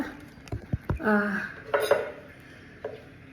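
Knife chopping food on a board in a home kitchen, preparing luncheon meat for a pet's meal: a few sharp, close knocks, then clattering of dishes and utensils, with scattered quieter taps.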